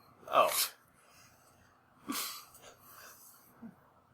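A sharp sneeze bursts out near the start, followed by a second snort-like burst and some quiet breathing or faint vocal sounds.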